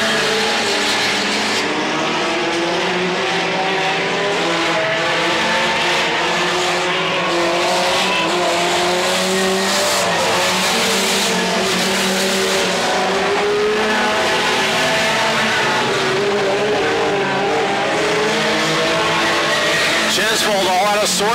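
Mini stock race cars roar around the Petaluma Speedway oval, engines revving and droning continuously at a distance while an announcer talks over the action throughout.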